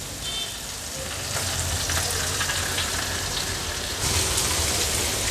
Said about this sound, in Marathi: आता मीडियम फ्लेमवर मागची बाजू देखील आपण व्यवस्थित फ्राय करून घेणार आहोत.